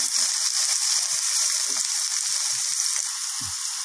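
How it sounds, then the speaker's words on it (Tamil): Ingredients sauté in a hot pan while soya rice is being made, producing a loud, steady frying sizzle close up, with a few faint low knocks from stirring and no speech. "இப்போ நல்லா வதங்கிட்டுருக்கு."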